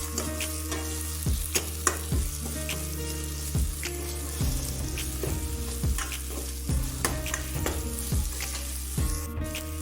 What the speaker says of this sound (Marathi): आलं लसूण पेस्टसुद्धा मी चांगल्या प्रकारे मिक्स करून घेत आहे